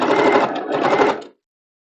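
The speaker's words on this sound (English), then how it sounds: "all I'm going to do is gently stitch that down." Sewing machine stitching down cutwork on a pillowcase, running in one close, steady continuous burst of about a second and a quarter before stopping abruptly.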